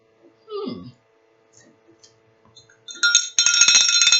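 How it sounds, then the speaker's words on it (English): A small bell jingles briefly near the end, bright and close, after a few quiet clicks and a short low sound. "Just happen to have a bell around"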